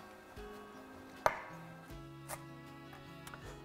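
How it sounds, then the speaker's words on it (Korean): A knife cuts vegetables into bite-size pieces on a board a few times, with scattered, fairly quiet chops against a low steady hum. "좀 먹기 좋게 한입 크기로 좀 썰어줄게요"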